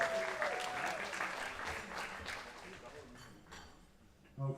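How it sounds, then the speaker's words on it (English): Audience applause fills a powerlifting championship hall at a world classic event, a steady dense clapping that thins out toward the end before a brief louder burst, with a faint metallic clink and some voices mixed in. "Give a round of applause."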